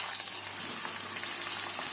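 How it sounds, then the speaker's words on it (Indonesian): Salt-marinated salem fish frying in a modest amount of hot oil, a dense, steady crackling sizzle that stays close and even throughout. "saya akan goreng ikannya."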